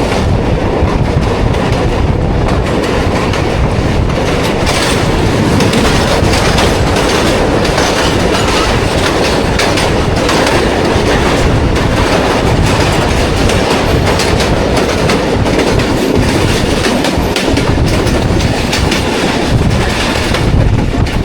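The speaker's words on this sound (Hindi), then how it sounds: "मलीर रिवर से पास हो रही है हमारी ट्रेन। ZCU30 14 डाउन अवाम एक्सप्रेस को लीड कर रहे हैं।" A ZCU30 locomotive hauls the 14 Down Awam Express across the Malir River bridge, heard from aboard as a loud, continuous rumble with rhythmic clickety-clack of wheels over rail joints throughout.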